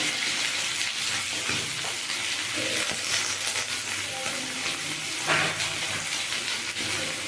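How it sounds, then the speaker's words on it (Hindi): Potatoes and tomatoes frying together in a pan for a masoor dal vegetable dish, a steady close-up sizzle with occasional stirring clatter, continuous and moderately loud. "एक साथ में अच्छे से भुना जाएगा आलू और टमाटर"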